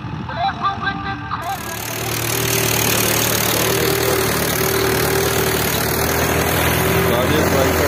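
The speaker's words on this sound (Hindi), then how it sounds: "हमारे इस खेत में एक साथ दो ट्रैक्टर चल रहे हैं।" Two tractors cultivating a farm field during the rabi sowing season: a steady, loud diesel engine drone that swells after a couple of seconds and then holds constant, with someone talking over it near the start.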